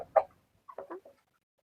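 A chicken or rooster gives a handful of short, close clucks, one sharp call followed by a quick cluster of softer ones, then quiet.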